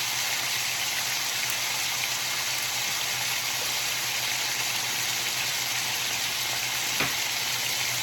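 Chopped onion sizzling steadily in a hot pan for sauerkraut soup, a dense even crackle of frying oil that holds constant throughout, with one brief sharp tap near the end.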